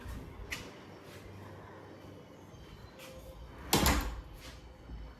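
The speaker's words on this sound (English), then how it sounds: "Let me show you the effect of the shut door." A door in a small cozy rental space swings shut with one sharp, fairly loud thud near the end, after a few faint clicks against a quiet room.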